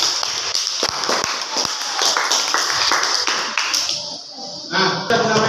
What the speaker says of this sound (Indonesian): tepuk tangan untuk Mas Susilo.